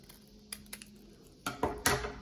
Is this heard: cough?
no